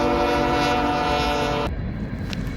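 Freight train cars behind GE Evolution locomotives roll past at night, a loud steady rumble with a sustained horn-like tone that cuts off abruptly, leaving a softer rolling clatter.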